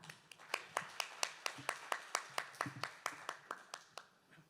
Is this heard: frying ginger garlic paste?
no